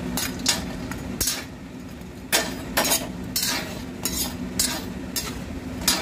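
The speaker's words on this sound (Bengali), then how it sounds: "এবার তেল গরমের পরে এই বড়িগুলো আমি ভাজতে দিলাম" Lentil dumplings (bori) frying in hot oil in a pan, a soft continuous sizzle broken by repeated clinks and scrapes of a metal spoon stirring, close and fairly quiet.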